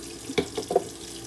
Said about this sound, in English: instead of using it with the water running